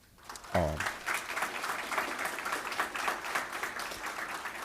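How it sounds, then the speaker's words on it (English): A conference audience applauds the organizers of a global indigenous studies conference, a brief sound at the start giving way to steady, moderately distant clapping. "give them a big round of applause"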